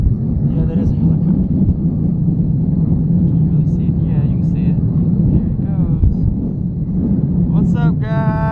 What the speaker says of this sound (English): Yeah, that is a helicopter.